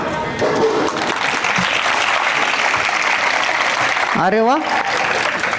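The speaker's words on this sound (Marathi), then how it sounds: "आणि तुम्ही मनाने टाळ्या वाजवता" Steady, dense applause from a crowd at a children's fun fair held during a memorial celebration, continuing throughout while a voice briefly exclaims over the top.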